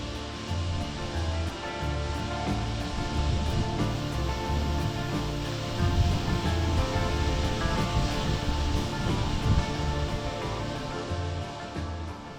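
Steady, powerful rush of water from a rocket launch pad water deluge system test, 1.5 million liters released in seconds, pouring and roaring without a break, a broad wall of noise that stays loud and even throughout.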